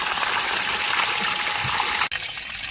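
Steady broadband rush of water pouring from a sand filter pump outlet after the pump is switched off for rinsing, loud and continuous with a brief break near the end.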